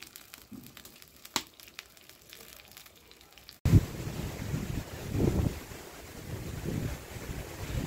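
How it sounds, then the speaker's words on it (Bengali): Gusty wind blowing through trees just before rain, a quiet rustle at first, then a loud rush of wind buffeting the microphone from about midway and continuing steadily to the end, with no voices. "বৃষ্টি হবে তাই বাতাস হচ্ছে।"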